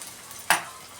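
Ginger garlic paste, two spoonfuls, dropped into hot oil for frying, gives a sudden bright sizzle burst midway that fades quickly against a faint background hiss.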